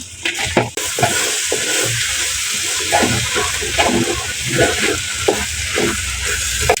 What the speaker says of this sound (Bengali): আমার চাল কষানো হয়ে গেছে, এখন আমি দিয়ে দিব টমেটো গুলো কুচায় রাখছি, এটাকে এখন দিয়ে দিব।